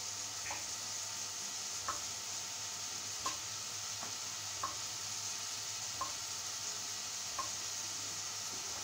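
Roti cooking in a pan in a home kitchen, a faint steady sizzle with soft periodic taps and scrapes recurring every second or so, quiet and close with no talking.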